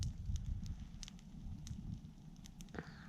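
A fire crackles with a low, steady rumble and scattered sharp pops and snaps, close but fairly quiet, with no voices.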